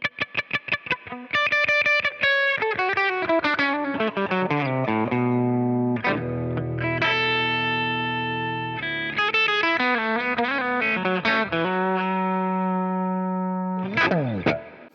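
Clean electric guitar through a Leeky X10 Tiger amp modeler, played in sustained chords and single notes, bright and steady with light effects, no voices.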